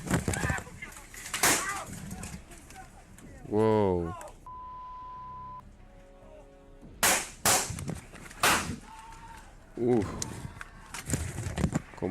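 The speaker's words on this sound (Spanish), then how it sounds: "Y como suenan los disparos." Sharp gunshot-like cracks ring out from a played video recording, several sudden bursts spread across the span, mixed with a steady tone, beeps and speaking voices.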